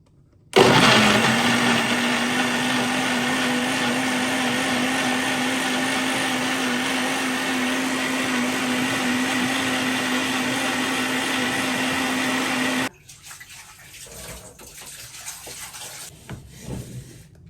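An electric blender grinds ingredients with added water, starting abruptly and running at a loud, steady, high-pitched whir for about twelve seconds before cutting off, followed by quieter handling noises.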